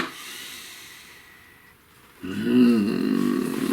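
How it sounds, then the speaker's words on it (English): A single slow, deep breath taken close to the microphone: a quiet, airy stretch first, then a loud, rushing, hissing breath that fills the second half. "Please take a nice deep breath."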